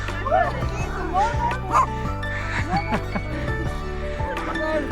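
Several dogs at an animal shelter bark, yip and whimper in overlapping bursts, close and fairly loud, with a voice talking among them.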